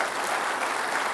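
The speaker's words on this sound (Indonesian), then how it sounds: "kita bisa kasih tepuk tangan untuk Pak Anies Baswedan" A studio audience at a televised Jakarta gubernatorial election debate claps for a candidate, a continuous, fairly loud wash of applause with no talking over it.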